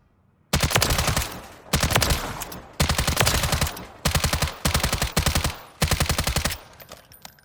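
An NG LVAW low-visibility assault rifle in Call of Duty: Modern Warfare III fires seven loud, close full-auto bursts, each about a second long, separated by short pauses, with no talking over the shots.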